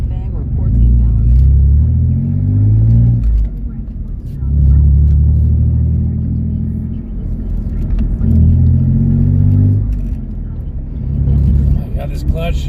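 A car engine revs and surges in repeated waves while driving, with smooth clutch changes between rising pulls; a voice talks over the steady low rumble.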